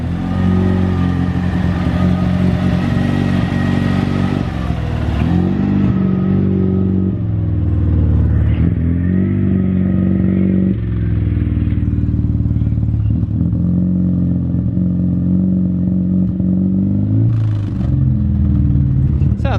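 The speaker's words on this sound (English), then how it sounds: "the car is currently idling, as you can hear" A rotary engine in a BMW E36 idles steadily with a low, lumpy rumble, close by and loud, with occasional small revs and clatter throughout.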